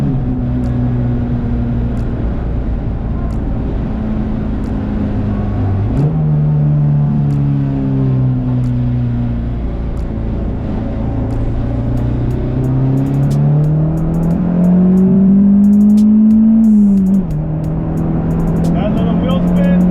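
A car fitted with a motor mount kit accelerates hard through several gears, with loud engine pitch climbing and dropping at each shift. A sharp rising surge near the end fits brief wheel spin, heard from inside the cabin.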